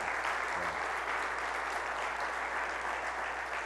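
A civic forum audience gives steady, dense applause that sounds far off and evenly washed out, a continuous patter with no single claps standing out.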